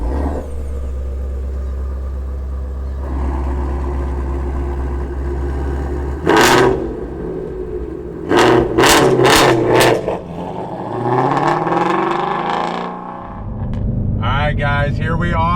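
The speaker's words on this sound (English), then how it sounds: "Let's fire up that Voodoo engine." A Shelby GT350R with its Voodoo V8 rumbles at idle, then cranks out several sharp, loud revs in quick succession before settling and pulling away, with someone speaking at points over the engine.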